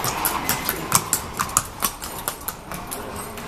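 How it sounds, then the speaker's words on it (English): Horses' hooves clip-clop on stone paths at Petra in quick, even, moderately close strikes, with faint background ambience and no talking. "Oh, really nice, these horses here."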